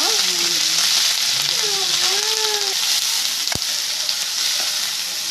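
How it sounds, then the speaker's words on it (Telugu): Dried shrimp shells sizzle steadily in hot oil with onions and curry leaves for a brinjal curry, a loud, continuous frying hiss throughout, with a faint voice speaking briefly in the background. "రొయ్య పొట్టు వేసుకున్నాం ఆయిల్లో."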